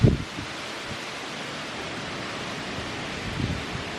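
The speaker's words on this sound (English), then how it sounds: "It did get windy." Wind gusts outdoors ahead of a storm, with broad steady rushing noise and a few low buffeting bumps against the microphone at the start and near the end.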